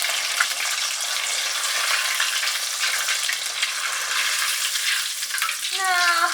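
Wrapped chicken bombs fry in a hot pan with a dense, steady sizzle and crackle, close and continuous, with a brief squeaky scrape near the end.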